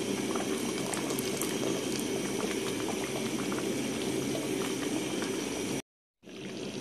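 Eggplant sauce simmers in a pot, a steady bubbling boil with small pops close by, cut off briefly by silence near the end before resuming.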